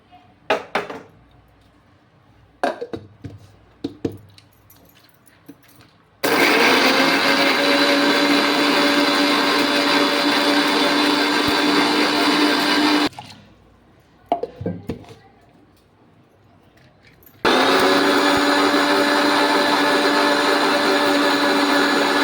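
A mixer grinder whirs loudly in two sustained bursts while grinding coriander seeds and cinnamon, with short clattering handling noises and pauses before and between the runs.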